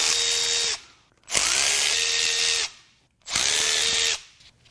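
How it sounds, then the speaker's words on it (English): An impact tool or power driver unbolts the fuel pump from a junk BMW/Mini Cooper N14 engine, dead at 107k, during teardown: three long, loud whirring runs separated by short pauses, close up with no talking. "Next, we'll unbolt the fuel pump."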